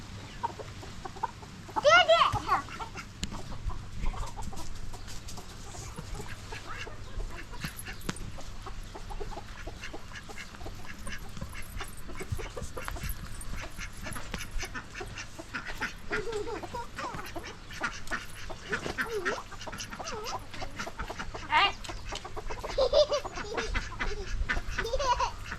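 Desi country hens cluck around a nest being prepared for setting them on eggs, a steady run of fowl calls through a noisy farmyard, with a person talking over them at times.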